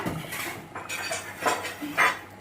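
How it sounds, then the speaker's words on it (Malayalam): A spoon stirs mutton curry in a metal cooking pot in a Kerala kitchen, with a few scraping clinks and knocks against the pot close by, coming in short irregular bursts. "നന്നായിട്ട് ഇളക്കാം."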